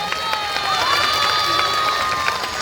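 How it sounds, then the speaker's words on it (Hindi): Dense crowd noise at an outdoor political rally, with people clapping and cheering steadily for a few seconds, some voices and whistling tones riding over the top. "ऐसा ताली बजाइए कि यहाँ से पटना की विधानसभा तक आवाज चली जाए"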